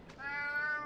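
A cat in the video game Alice: Madness Returns gives a single clear, drawn-out meow, close and alone without talk.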